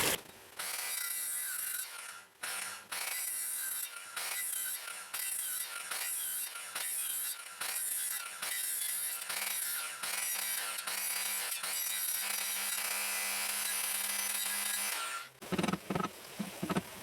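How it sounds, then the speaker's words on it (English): Tool cutting a 1 1/4 inch notch into a wooden cross piece, a quick rhythmic rasping of strokes repeating for about fifteen seconds, then a few clunks at the end, no talking. "I'm at 1 1/4 inch here to make a notch to support or join the crosses together"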